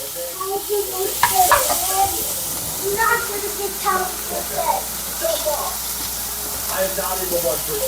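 Thick onion pieces sizzle in a hot pan while being stirred, with scraping and crackling close by, a steady frying hiss beneath, and a person talking over it.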